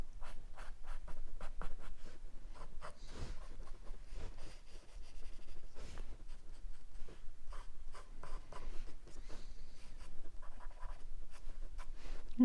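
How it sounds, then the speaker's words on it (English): A pencil draws lightly on paper in continuous soft scratchy strokes, close and quiet, with brief pauses and changes of stroke throughout. "And then just lightly draw in the edge."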